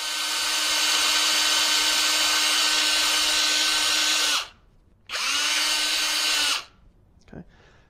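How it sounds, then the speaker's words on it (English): A power drill with a 3/32 bit whines at high speed through a plastic canister for several seconds, stops, then runs again in a second shorter burst, followed by a light clatter. "Using the 3/32 drill bit, we will go ahead and drill the canisters both in the top and bottom."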